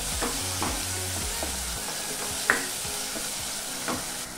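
Tomatoes fry in oil in a pan with a steady close sizzle and the scrape of a spoon stirring, plus a sharp clink near the middle, with no talking.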